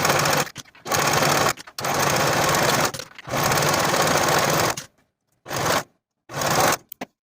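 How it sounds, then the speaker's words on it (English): A sewing machine or serger runs a 5/8 inch center front seam on a cowl neck sweater, in several loud close bursts of steady whirring separated by brief pauses, with no talking. "Sew or serge your center front seam with a 5/8 inch seam allowance."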